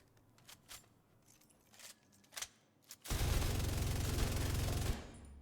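An LMG in the shooter game The Division 2 fires one sustained, loud burst lasting about two seconds, after a few scattered clicks and thumps.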